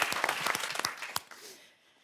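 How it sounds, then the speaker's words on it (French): A studio audience on a French TV game show applauds two contestants, a short burst of brisk clapping that quickly dies away into near silence. "on vous applaudit quand même"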